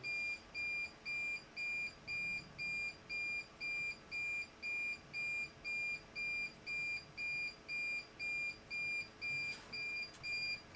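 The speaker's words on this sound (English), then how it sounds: "I apologize for the beeping in the background that you're hearing" An electronic beep repeats steadily about twice a second, a thin high tone pulsing on and off over quiet background hiss, with no talking.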